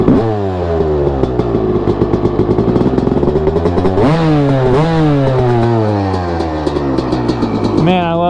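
Honda CR250R two-stroke dirt bike engine revved repeatedly, loud and close, rising and falling pitch sweeps with a crackling, ringing exhaust and a sharp blip near the end.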